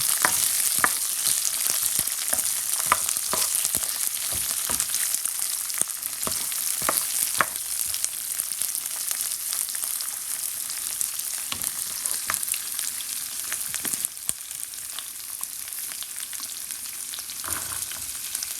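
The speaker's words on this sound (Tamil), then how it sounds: "பிறகு வெட்டி வச்சிருக்கிற சிமால் ஆனியனை அதுக்குள்ளே போடுறேன் சின்ன வெங்காயம் தடையாக மிக்ஸ் பண்ணுறேன்" Small onions sizzle in a hot pan while a spoon stirs them, its sharp clicks and scrapes repeating over a constant close frying hiss.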